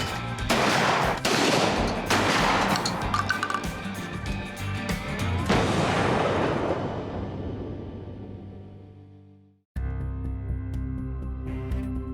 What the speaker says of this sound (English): let them apply some of these skills they learned with the shotgun, see if they can handle it safely while they try to shoot some clays